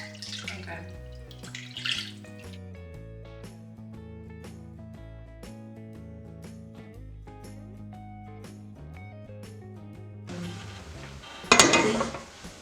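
Tap water runs intermittently while raw oxtail is rinsed in a kitchen sink, soft splashing with light clinks of a pot, building to a louder gush near the end.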